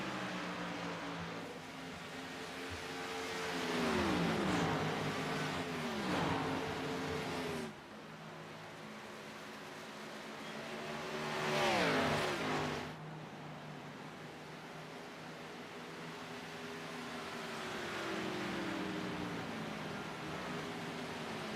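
Stock-car engines in a video-game Xfinity Series race at Kansas whine on the final lap, swelling and falling in pitch as cars sweep past in three or four waves over a steady drone.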